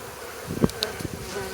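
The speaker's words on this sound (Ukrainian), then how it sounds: "Є бджілки на низу." Honeybees buzz around an open hive at an apiary while a frame is lifted out, a soft, close hum broken by a few short louder buzzes of bees flying past.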